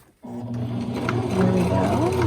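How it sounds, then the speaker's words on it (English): A sewing machine runs steadily, stitching and back-stitching the ties of a soft, adjustable fabric face mask, its motor hum continuous and close after a brief quiet start. "you're just going to sew it down and make sure you back stitch over it so it doesn't come out"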